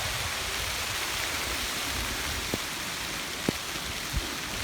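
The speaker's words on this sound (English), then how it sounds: "I knew the rain was coming." Steady rain falls in a late September storm, a dense, even hiss with a few sharper taps and drops standing out nearby.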